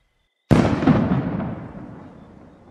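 A firework rocket in a fireworks video game mod bursts with a sharp, loud crack after a brief silence, then a crackling rumble that slowly fades over two seconds.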